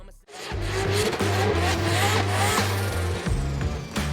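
A 1,000-horsepower competition drift car at a Formula Drift Pro round in Texas, its tires squealing loudly over a steady roaring engine drone, close and continuous with brief shifts in pitch.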